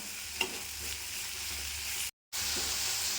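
Tomatoes softening in a pan with salt and turmeric for a horse gram kulambu, giving a steady close sizzle and hiss with a few faint stirring scrapes, broken by a short gap of silence.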